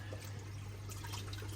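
Water flows steadily out of a reef aquarium chiller, a soft continuous trickle and pour over a low electrical hum, close and quiet.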